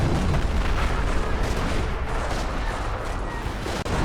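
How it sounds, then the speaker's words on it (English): A terror artillery barrage crashes down on a battlefield in a Company of Heroes 4v4 Operation Market Garden match, a dense, continuous rumble of shell impacts and booms that stays loud and unbroken throughout. "Perhaps a terror barrage? Yes, it's a terror barrage."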